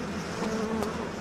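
A dense, steady buzz of many bees from the bee plasmid in BioShock Remastered, constant and close, with no voices.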